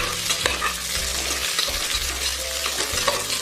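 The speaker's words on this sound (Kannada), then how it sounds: "ಒಂದು 2 ನಿಮಿಷ ಹಸಿರು ಮೆಣಸಿನ್ಕಾಯಿ ಹಾಕ್ಬಿಟ್ಟು ಫ್ರೈ ಮಾಡ್ಕೊಳ್ಳಿ" Green chillies fry in a pan for paneer palav, a loud, continuous sizzle broken by scraping stirs and occasional clinks of a spoon, with no talking.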